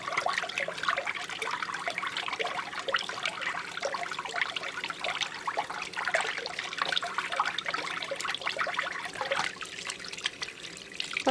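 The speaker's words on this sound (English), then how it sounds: "I need to wash my hand again." Tap water running steadily into a sink while hands are washed with a bar of soap, a continuous close splashing trickle throughout with small shifts in flow and no speech.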